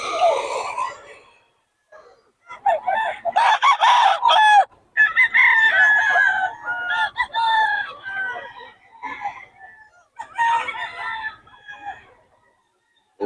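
Several roosters crow close by at a gamecock market in Bocaue, overlapping loud cock-a-doodle-doos and clucks coming in bursts with brief quiet gaps between them.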